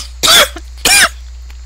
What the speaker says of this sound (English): I don't know why I'm coughing again.